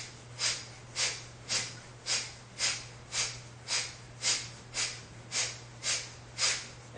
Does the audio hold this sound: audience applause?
no